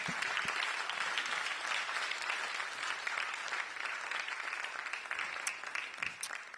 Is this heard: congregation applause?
yes